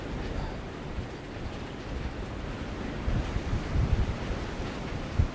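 Sea waves rolling in on the Scottish coast, a continuous low roar of surf with wind buffeting the microphone, swelling slightly toward the end.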